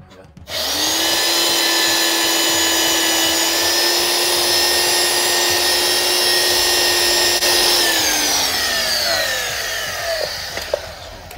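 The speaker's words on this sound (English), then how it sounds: "so you take your porta band and go right above this" A portable band saw cuts through a steel fire extinguisher, giving a loud, steady, whining metallic grind that holds for about ten seconds. Its pitch sags near the end before the saw winds down.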